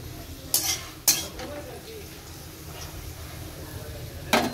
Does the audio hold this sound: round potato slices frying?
yes